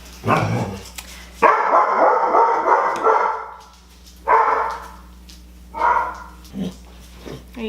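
A dog barks indoors in several loud bursts separated by short pauses, with a few sharper yips among the deeper woofs.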